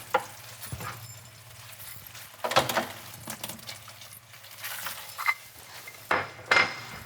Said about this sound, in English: Gonna give this a good stir and then we'll remove it from the heat.